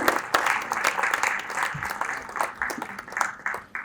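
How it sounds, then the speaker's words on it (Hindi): Applause from an audience at a talk event, a short, fairly soft run of clapping with individual claps standing out as it tapers. "किताबों के लिए तो थोड़ी और तालियां होगी।"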